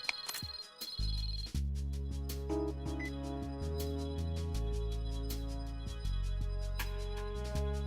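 A cell phone ringtone from Metal Gear Solid 2 plays as a steady electronic tune of sustained tonal notes with shifting pitches, moderately loud, alone without voices.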